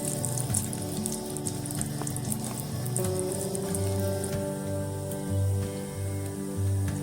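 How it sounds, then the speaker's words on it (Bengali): Chopped cashew nut pieces frying in hot ghee, a close, continuous crackling sizzle with fine popping bubbles over a low steady hum. "টুকরো টুকরো করে হালকা 1-2 মিনিট ভেজে নেব।"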